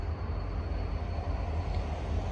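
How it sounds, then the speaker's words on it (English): A Portland & Western manifest freight train led by three GP39-2 locomotives rolls past, a steady, loud rumble of wheels and engines with no breaks, close by and unaccompanied by talk. "it is a Portland Western train"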